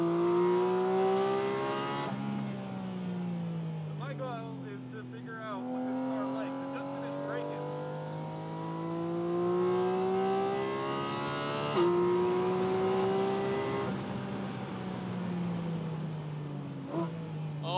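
A 2023 Porsche Cayman GT4 RS engine heard from inside the car on a race track: loud, sustained revving with rising pitch through the gears and sharp shifts, continuous throughout.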